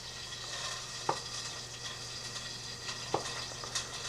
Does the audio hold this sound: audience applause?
no